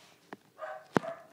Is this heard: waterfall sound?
no